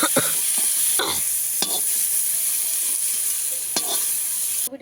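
Cauliflower frying in an oiled pan, a steady close sizzle with a few scraping stirs of a spatula cutting through.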